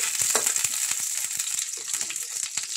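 Garlic fries in a hot pan as bitter gourd is being cooked, giving a loud, continuous close-up sizzle broken by soft scrapes and taps of stirring.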